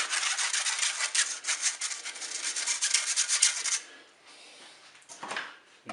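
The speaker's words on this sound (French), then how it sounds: "Je mets un tamis sur mon saladier, je mets la farine, je vais mettre ma levure." Flour and baking powder are sifted through a sieve into a mixing bowl, making close, soft rhythmic scratchy rubbing for about four seconds, then quieter scraping and a brief rasp.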